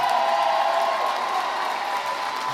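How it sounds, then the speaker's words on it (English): A crowd at a city swearing-in ceremony applauds and cheers for newly elected city council members, with steady dense clapping and scattered whoops throughout. "Let's give a huge round of applause to our city council members"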